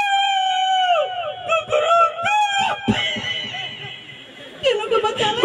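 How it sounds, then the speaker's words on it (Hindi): A toy rooster crowing, a drawn-out electronic cock-a-doodle-doo repeated in bursts, loud and close, with laughter-like sounds and brief clucking mixed in. "मुर्गा के बोली था"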